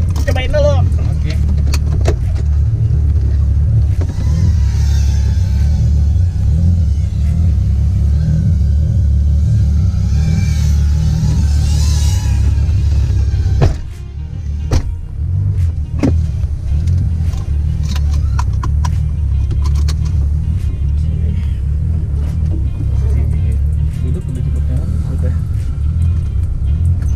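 A car engine rumbles and revs for a drift start, a loud, continuous low growl with a brief dip midway, while someone talks over it.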